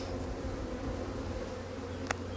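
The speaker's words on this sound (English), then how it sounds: "There's more bees over here." Honey bees buzz around a strong beehive with capped brood and larvae, a faint continuous hum close by, with one brief sharp click near the end.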